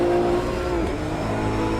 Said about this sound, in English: This car's got a crisp, snappy downshift, but it has no exhaust note.